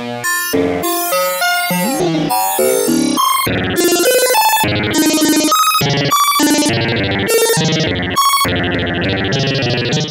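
Harsh, metallic synth tones from a ring modulator fed into a Synthrotek FOLD Eurorack wave folder, with clangorous, inharmonic overtones jumping between pitches in choppy bursts, loud and continuous, some notes bending and gliding.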